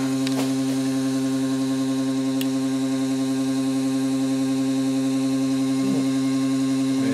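A 24-volt window motor spins a small fan mounted on its shaft at high RPM, producing a steady, close electric hum and whine with strong layered tones that stay level throughout, with a couple of faint clicks.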